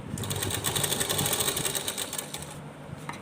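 A sewing machine stitches fabric for a small Laddu Gopal (Kanha) dress, running in a steady, continuous whirring rhythm close up for about three seconds before easing off at the end.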